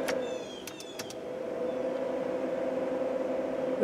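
Heater blower fan in a classic Range Rover or Discovery 1 cabin running on the AC setting, a steady mid-pitched whir holding even throughout, moderately close with faint clicks early on and no talking.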